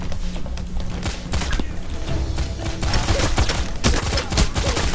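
Rapid gunfire in the video game Payday The Heist, a dense, continuous stream of loud shots and impacts with no pauses, close and busy throughout.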